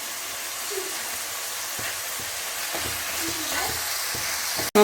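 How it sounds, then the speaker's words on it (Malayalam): Onions for a homestyle duck curry sizzle in a pan while being stirred, a soft continuous frying hiss with occasional scraping taps of the spoon, ending in a sharp click. "നന്നായി ഇളക്കി കൊടുക്കാം."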